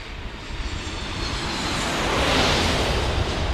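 A Japanese Boeing 787 Dreamliner at San Diego airport gives a loud, close jet roar that swells steadily and peaks near the end.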